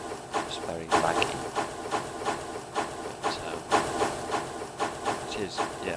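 Rhythmic hissing chuffs of a train repeat steadily, with sharp bursts of steam noise recurring roughly every half second, fairly loud and close, in the video game Rails of War.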